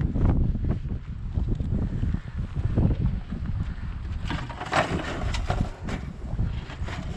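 Wind blows hard outdoors, producing a constant low rumble and buffeting gusts against the microphone that swell and ease throughout.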